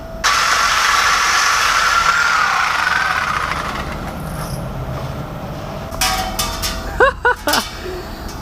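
A Dodge Hellcat with its muffler deleted fires up close and loud with a whining roar that settles into a rumbling idle, then barks out several sharp throttle blips near the end.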